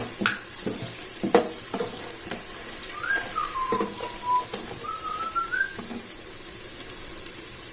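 Chicken biryani masala being mixed and cooked in a pan, with steady sizzling and repeated scraping stirs, plus a faint wavering whistle in the background; no talking.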